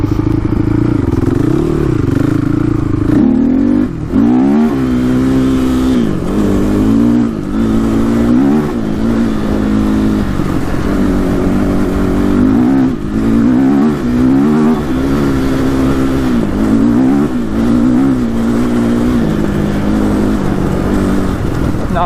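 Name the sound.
Honda TRX450r quad engine revving at the rev limiter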